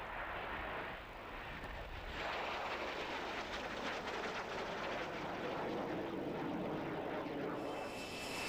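Folland Gnat jet trainers flying at a 1997 British airshow, a distant, broad jet roar that swells and holds steadily, with faint crowd noise beneath and no clear speech.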